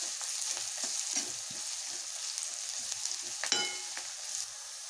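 Onions fry in a pan for a bitter gourd curry, a steady bright sizzle with intermittent soft stirring scrapes and one brief metallic clink, close and continuous.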